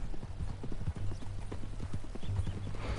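Horse hooves clip-clop at a steady walking rhythm in Red Dead Redemption 2, close and continuous over a low background hum with no talk.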